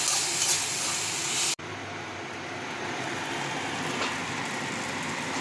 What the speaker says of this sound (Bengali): ভালো করে মশলাগুলো ফ্রাই করে নিচ্ছি।